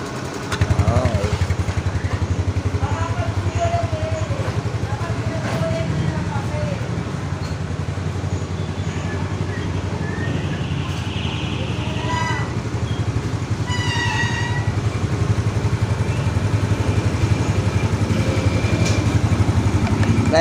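A motorcycle engine with hard starting and lost compression runs steadily at idle, a continuous close chugging throb that persists throughout while a person talks over it.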